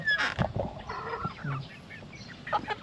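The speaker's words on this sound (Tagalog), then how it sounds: "dito naman tayo sa mga manok at pato sa loob." Backyard chickens and ducks cluck and squawk inside a coop, a busy cluster of close, uneven calls with short pauses between them.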